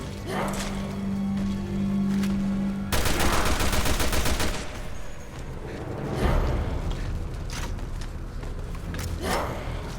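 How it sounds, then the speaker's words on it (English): Gunshots ring out during a boss fight in the video game Resident Evil Revelations 2, with sharp repeated bursts of firing over a loud game soundtrack and effects. "now we're going to start shooting her."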